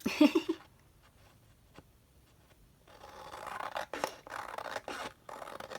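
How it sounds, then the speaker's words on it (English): Scissors cut through magazine cover paper, giving a short crisp snip at the start and then a longer run of dry scraping cuts near the end, close and fairly quiet. "I'm just seeing where I feel like I want to cut it"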